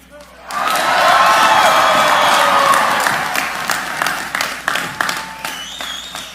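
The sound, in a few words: crowd applauding and cheering a welcome for speakers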